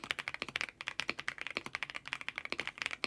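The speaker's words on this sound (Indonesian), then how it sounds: "Keyboard mechanical semi full size plus knob cakep dan suaranya seenak ini nih." Fast, steady typing on a KZZI K98 retro-themed semi full-size mechanical keyboard with leaf-spring gasket mount, crisp close clacks in a quick continuous rhythm, with no voices.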